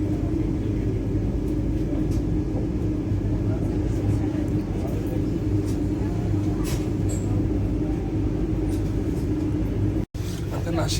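A continuous low rumble of a running Vande Bharat Express train fills the clip, steady and enveloping, with brief faint clicks and a momentary dropout near the end.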